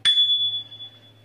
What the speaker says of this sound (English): I put a wee bell on just for,